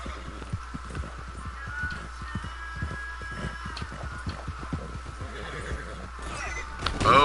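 A horse in a video game whinnies with a long shaky neigh while its hooves clip-clop in a quick, steady rhythm, close and clear with little talk.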